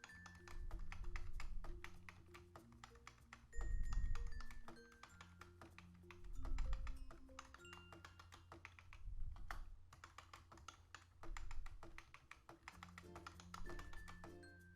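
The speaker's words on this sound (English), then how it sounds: "and start typing over again." Rapid, steady typing on a computer keyboard, many quick clicky taps, with soft background music playing underneath.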